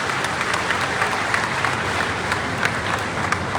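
Audience applause at a public address by a Union minister in Una, steady dense clapping filling the space at moderate loudness without a break.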